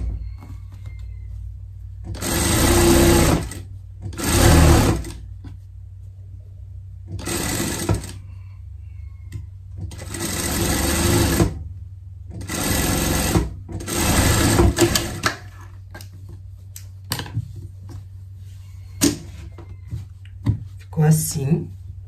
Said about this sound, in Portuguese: E aqui uma costura de segurança.